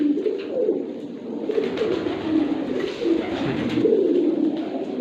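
Rampuri bloodline pigeons coo repeatedly close by, soft throaty rolling calls overlapping in a steady rhythm with no talking.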